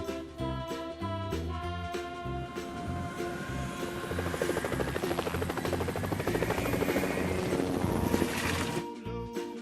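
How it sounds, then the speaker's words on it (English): A firefighting helicopter flies past with a steady chopping rotor drone that builds and grows louder toward the end, mixed with loud background music. "Firefighting helicopter."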